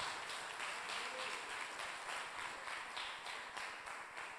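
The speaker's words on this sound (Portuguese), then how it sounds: "Você pode aplaudir o nome do Senhor Jesus" A church congregation applauds with a dense, steady clatter of many hands. The clapping is distant and fairly quiet and continues for several seconds without talking.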